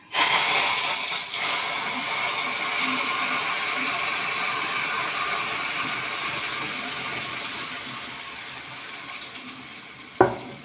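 A kitchen mixer grinder runs on coconut and peanuts for chutney, a steady whirring that starts abruptly, slowly winds down, and ends with a sharp click.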